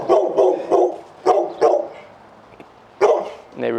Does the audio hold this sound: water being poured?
no